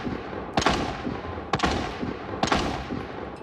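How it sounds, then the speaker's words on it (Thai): Three separate bursts of gunfire from bots in the video game Arena Breakout, about a second apart, each a quick crackle of shots over a steady background hum, at moderate distance. "ฉันค่อนข้างที่จะมั่นใจว่าเสียงที่ยิงอยู่นี้เป็นเสียงบอทที่ยิงใส่ศัตรูของเรา"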